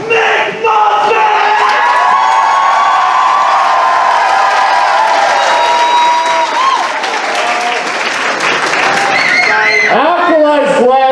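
A large crowd cheers, shouts and applauds loudly for a fursuit dancer at a fursuit dance competition, a sustained roar of voices and clapping with an announcer's voice rising over it near the end.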